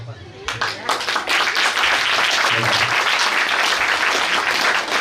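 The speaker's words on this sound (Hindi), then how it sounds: "मेरा विनय है कि जोरदार तालियों से आप इनका अभिनंदन करेंगे, प्रोत्साहन करेंगे" An audience at a school annual day breaks into loud applause, which builds quickly after a brief quieter start and then stays as thick, sustained clapping; a voice is faintly heard near the beginning.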